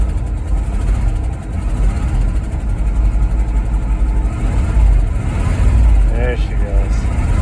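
A worn, high-mileage supercharged 454 V8 with a failing oil pump and tired heads runs loud and steady, rumbling up close with a slight swell in revs, and someone speaks briefly over it near the end.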